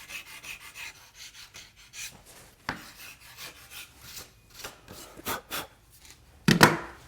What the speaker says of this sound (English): I'm using a scraper to remove that a little bit and just tidying it up and sweeping off the dust